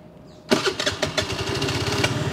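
A Benelli Panarea 125 scooter fires up on its conventional starter motor: a brief whir, then the engine catches and settles into a smooth, close, even idle.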